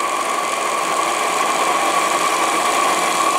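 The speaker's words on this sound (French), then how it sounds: "Vous l'entendez claquer parce que la bille vibre." The check valve on an Anton T200 live steam boiler clacks as its ball vibrates, making a rapid buzzing chatter under a steady hiss of water and steam that stays continuous and fairly loud throughout.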